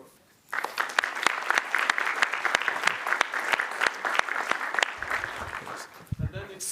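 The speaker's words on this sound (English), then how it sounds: "so I suggest we have a last applause." Audience applause closes an academic talk on probabilistic modelling, starting abruptly with a few sharp, distinct claps standing out in a steady wash, then fading as people begin to talk.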